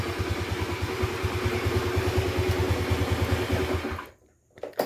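A carbureted Honda Beat scooter engine runs close by with a steady, rhythmic idling putter for about four seconds, then cuts off abruptly, followed by a couple of faint clunks.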